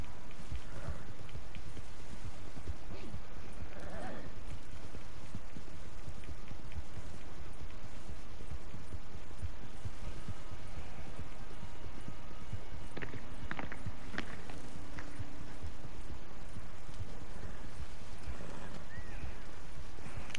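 Horse hooves clip-clop steadily through a continuous wash of rain in Red Dead Online, the footfalls fairly faint under the dense, loud ambience, with a few brief sharper sounds near the middle.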